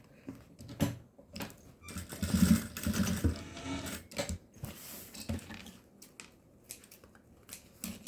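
A sewing machine runs in short bursts while stitching a cosmetic bag, with quiet pauses between runs and faint handling clicks, fairly soft and close.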